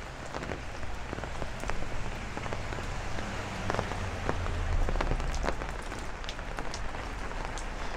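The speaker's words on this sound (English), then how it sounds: "The rain is starting to come down a little harder though now" Steady heavy rain pattering on surfaces during a night thunderstorm in Bay Ridge, Brooklyn, a dense continuous hiss with scattered louder drops, swelling slightly in intensity midway.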